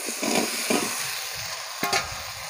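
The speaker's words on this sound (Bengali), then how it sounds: "আলুটা দিয়ে একটু কষিয়ে নেব।" Potatoes sizzle in hot spiced oil in a pan as a spoon stirs them, giving steady close frying hiss broken by a few scraping strokes, with no voices.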